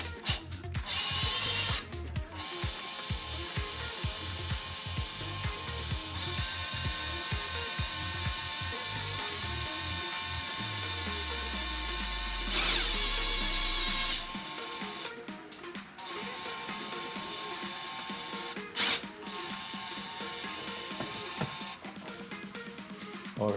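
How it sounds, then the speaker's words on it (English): A cordless power drill spins bolts out of a car's air filter box in repeated whirring bursts with ratcheting clicks, one long wind-down near the middle, close and moderately loud with no talk. "So I'm actually going to use my drill."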